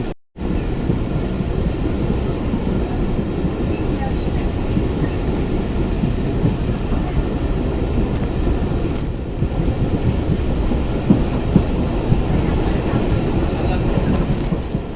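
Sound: train departing a railway station in Bangladesh

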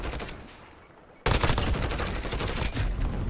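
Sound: GRAU 5.56 rifle gunfire in Modern Warfare video game

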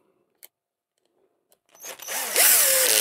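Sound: Parkside impact driver driving a casing screw

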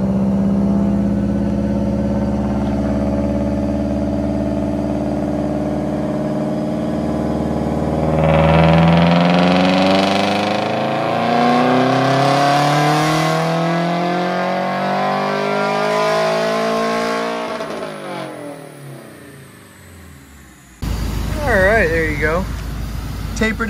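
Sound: tuned car engine revving at full throttle

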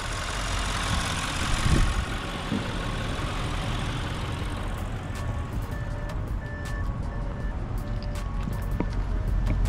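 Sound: car exhaust note at idle

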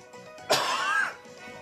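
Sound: cough

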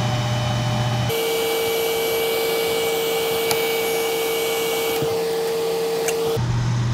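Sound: hair dryer on low heat-setting glued lure eyes

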